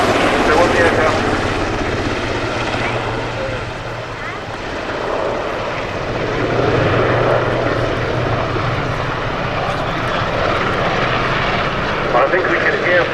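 Rescue helicopter with two Rolls-Royce engines and a large rotor at an airshow, a loud sustained rotor and turbine roar that dips briefly and swells again, with announcer talk over it.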